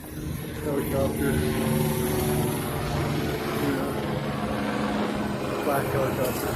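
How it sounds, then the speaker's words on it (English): Black helicopter passing overhead outdoors in a town street, a steady low rotor and engine drone held throughout at moderate loudness, with faint street ambience beneath. "Black helicopter."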